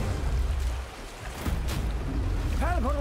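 A boat pitches on rough water in the God of War video game, with a dense rushing wash of waves and spray, a sharp splash in the middle, and a voice rising over the noise near the end.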